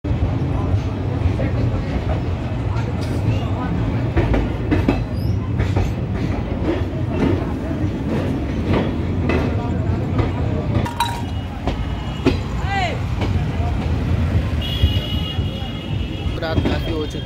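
Passenger train of ICF coaches hauled by a WAG-9 electric locomotive rolling out of Agra Fort at night, a steady loud rumble with rattling, clinking carriage noise and faint rail clatter throughout.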